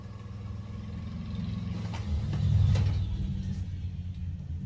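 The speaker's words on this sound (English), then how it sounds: "So I hit the yes on there and it is printing." An Epson 7210 wide format sublimation printer runs mechanically with a low, steady rumble and whir, the print carriage moving with faint creaks and a swelling hum midway, close by with no talking.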